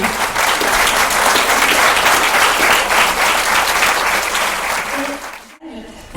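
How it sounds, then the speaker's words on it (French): Sustained audience applause at a round table discussion on plant-based eating after 60, steady and dense for over five seconds before stopping abruptly, with a brief voice following. "on peut les applaudir, ils ont beaucoup donné."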